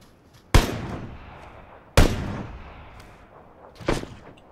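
Gunfire in a PlayerUnknown's Battlegrounds duo match: three sharp, loud single shots spaced over a few seconds, each with a short decaying tail, with no talk.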